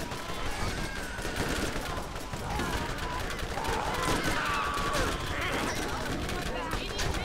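Rapid gunfire from the video game Borderlands, dense and continuous throughout, mixed with game effects and players talking over it.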